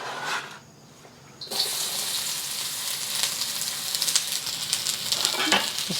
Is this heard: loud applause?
no